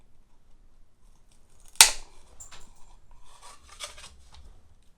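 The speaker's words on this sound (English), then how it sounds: "The last thing we need to do is cut the barbecue skewer here at the bottom." A wooden barbecue skewer is cut with a single sharp snip, followed by faint rustling and handling sounds in a quiet room.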